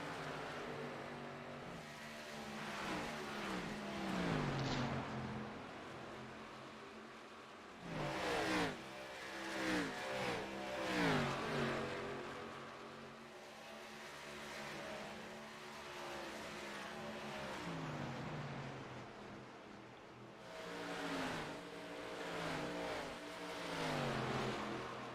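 ARCA Series race cars in an online sim racing league race at Bubba's Tire Bar 100, engines revving and whining as they drive hard through corners and down the straightaway, continuous and loud with rising and falling pitch sweeps.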